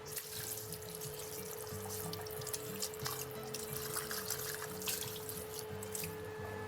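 Running tap water splashes steadily over a hollowed-out pepper being rinsed at a sink, a continuous close trickle with small drips throughout, accompanied by a low hum.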